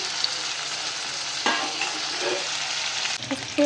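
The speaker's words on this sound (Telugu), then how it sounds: "తర్వాత అందులో ఈ టమాటాల ముక్కలు కొంచెం వేసి" Tomato pieces fry in a kadhai for paneer biryani, a steady close sizzle with a sharper burst of crackling as they go in and occasional stirring scrapes.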